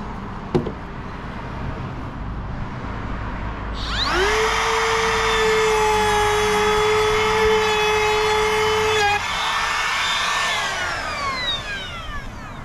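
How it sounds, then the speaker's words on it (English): Electric router cutting a recess for a new entry door in a restored 1880 shop building, spinning up into a loud steady whine for about five seconds, then winding down as the bit leaves the wood. "Don't you chisel the edges before you route it?"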